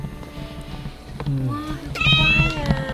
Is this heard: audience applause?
no